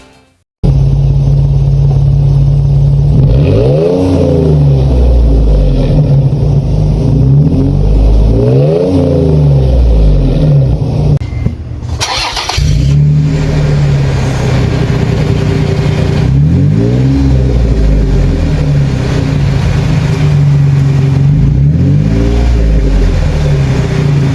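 A Toyota FJ Cruiser (2007–2014, TRD-type) with an aftermarket baffled muffler and 4.5-inch black tip revs repeatedly in loud, deep swells, with a brief cut midway, over a steady idle rumble and no talk.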